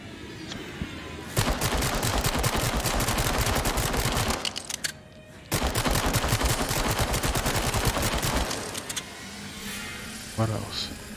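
Rapid bursts of gunfire aimed at rats in the VR video game Switchback VR, two long dense volleys of loud close shots separated by a brief pause, with voices mixed in underneath.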